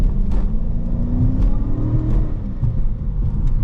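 A Dodge Charger R/T, driven in manual mode, revs its engine with a loud, close rumble, the pitch climbing steadily over several seconds, with no talk.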